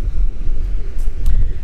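Strong wind blowing across a large lake in Argentina, a steady low rumble and buffeting on the microphone throughout, loud and close with no other clear sounds.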